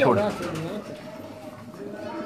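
A pigeon held in a fancier's hand, among Sialkoti and Kasuri breeding stock in Jinnah Town, Quetta, gives a low cooing burst at the start that trails into softer coos, with voices murmuring close by.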